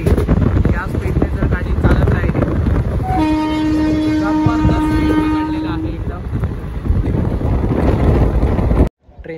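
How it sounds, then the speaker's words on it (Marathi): An electric-engine passenger train on the Kolhapur to Solapur line runs at speed, a loud steady rumble and rush of wheels and wind with a long sustained horn blast partway through, ending abruptly. "इलेक्ट्रिक इंजिन असल्या कारणामुळे जबरदस्त स्पीड पकडलं आहे."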